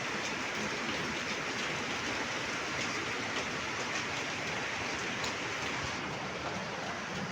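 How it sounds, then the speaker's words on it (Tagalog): Steady rain falls outdoors on a cold day, a dense, even hiss with no breaks and no voices. "Maulan sa labas, kaya papasok ulit ako."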